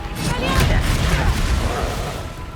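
Bombarda spell explosion in Hogwarts Legacy combat, a burst of booming, crackling blasts and rumbling debris spread across the moment, loud and dense, with a voice calling out during the fight.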